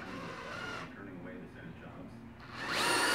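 Power drill driving an 8x3 inch screw while mounting a whitetail deer head, a whirring motor that slows and strains under load, then revs up loudly again at the end, with speech underneath.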